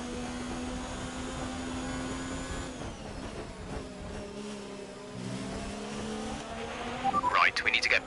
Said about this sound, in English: What is that noise? Feels like something's scrubbing along the floor.